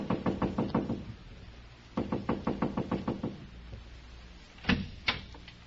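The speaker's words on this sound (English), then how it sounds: "So I just kept knocking and knocking." Knocking on a door in a radio drama: a firm series of about six quick raps, a pause, then another series of seven or eight knocks, followed later by two louder separate thuds, close and clear.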